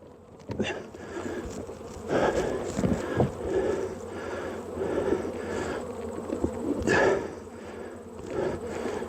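Honey bees buzz steadily around a heavy hive box being moved on moving day, a dense insect drone with wind and handling bumps over it.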